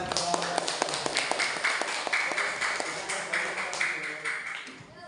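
Classroom of students clapping for a classmate's correct answer, a dense run of quick claps over a steady roomy murmur.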